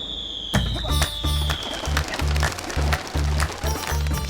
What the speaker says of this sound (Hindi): मुझे मंजूर है पटाखे फोड़ के